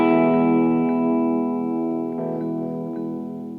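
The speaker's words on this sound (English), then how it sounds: "I'm going to send through bus 1 to our reverb." An instrument sent through a bus to a shared reverb in Logic Pro rings out as a sustained, reverberant tone with a few faint plucked accents, slowly decaying across the whole stretch with no voices.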